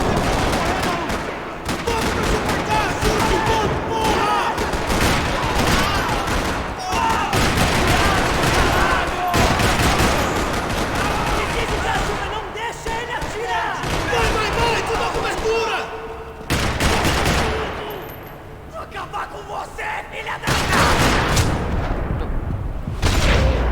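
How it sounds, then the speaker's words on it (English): Sustained bursts of rapid gunfire in Max Payne 3 crackle almost continuously across a parking lot, with loud volleys and brief pauses, heavy and close throughout. "Another parking lot rattling with gunfire."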